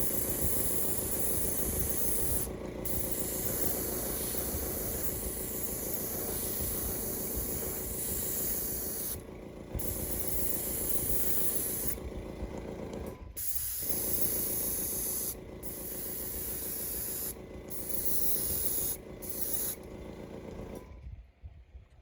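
An airbrush hisses in long, steady bursts as paint is sprayed onto a realistic bluegill fishing lure, with brief gaps where the trigger releases, close and continuous.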